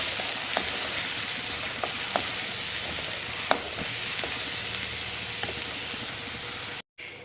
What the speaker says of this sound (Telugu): ఆల్రెడీ ఎందుకంటే నూనె కాగిపోయింది కనుక దీన్ని చక్కగా వేయించుకుందాం